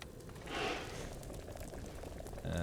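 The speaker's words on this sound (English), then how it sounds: "Let's make it the bubbling sound." Liquid bubbles and boils steadily during alchemy brewing in the medieval game Kingdom Come Deliverance 2, a continuous moderate simmer with no talking over it.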